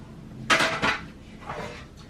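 Metal baking pans for cornbread clank and rattle as they are handled and set down in an RV kitchen, two close knocks followed by a softer scrape.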